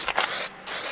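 A spray paint can gives two short bursts of hissing spray, loud and close, separated by a brief pause.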